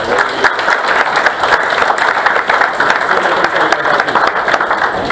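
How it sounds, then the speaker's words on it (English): Steady, sustained applause from the audience at a school district board meeting, honoring a JROTC color guard, a dense wash of clapping holding at an even level throughout. "Please do a round of applause for our JROTC there."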